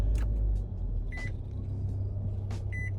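A car's engine being started, heard as a deep steady rumble close by, with a short electronic beep repeating twice and a few faint clicks over it; no talking.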